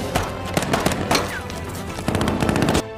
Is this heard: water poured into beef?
no